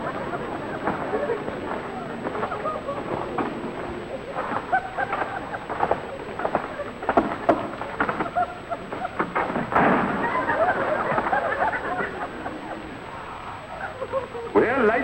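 Thunderstorm sound effect in an old radio comedy, with rumbling thunder and crackling bursts rolling on throughout, loud and close, and a few sharper cracks standing out.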